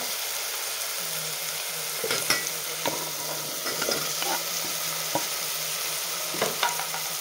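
Potatoes and peas being stirred into masala rice frying in oil, with a steady soft sizzle and several scraping spoon strokes and clinks spread across it, close by and at moderate volume.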